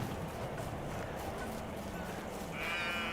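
Sheep bleat in the Medieval Dynasty video game, a busy, steady game soundscape with a brief higher-pitched bleat near the end.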